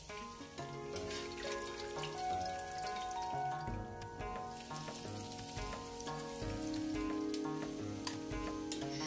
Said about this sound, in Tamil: நெய்ச்சோருக்கு கார்னிஷிங் பண்ணுறதுக்காக கேஷ்யூநட்ஸ் அப்புறம் ரைசன்ஸ் இதெல்லாமே ஃப்ரை பண்ணி எடுக்க போகிறேன்.